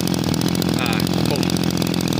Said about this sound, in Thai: เครื่องยนต์ทำงานได้นิ่มนวลมากนะครับ